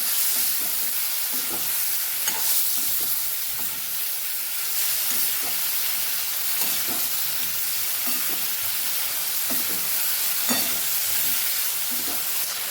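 Green chillies and tomatoes fry in a hot pan for a Kathiyawadi-style cauliflower dish, giving a steady loud sizzle and hiss broken by repeated scraping stirs of a spoon, with no talking.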